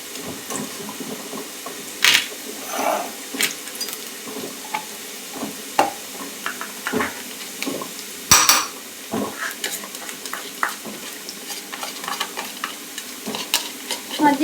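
Onion softening in a hot pan with spices added, a steady frying sizzle broken by repeated scraping stir strokes and a few sharp clinks of utensil on metal, close and without any voices.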